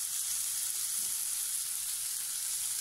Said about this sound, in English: you saute that together with some seasoning